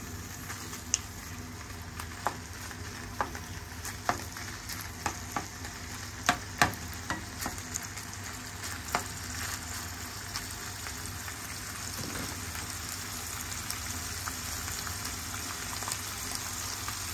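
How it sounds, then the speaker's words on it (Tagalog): Garlic sautés in a pan for a green papaya dish, a continuous soft sizzle with scattered crackles and pops, faint and even throughout. "Gisahin po muna natin siya."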